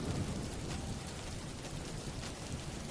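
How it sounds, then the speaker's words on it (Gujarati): Heavy rain pours down in a steady, dense wash of noise that holds without pause for the whole stretch, with no voices. "વરસાદ તો બહુ આવે છે"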